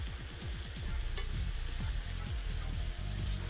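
Apples caramelize in a frying pan with a continuous close sizzle and hiss, and a low mechanical rumble runs underneath throughout.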